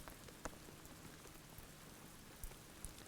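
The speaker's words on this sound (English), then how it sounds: "I'm speaking about fluidity as I'm sitting in the rain." Rain falls steadily outdoors as a soft, even hiss, faint and continuous, with a few sharper drops striking nearby now and then.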